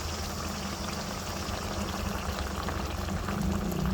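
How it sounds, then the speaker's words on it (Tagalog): Boiled water is poured into a pot of simmering pork adobo, giving a close, continuous splashing pour over steady bubbling. "Maglagay na tayo ng tubig"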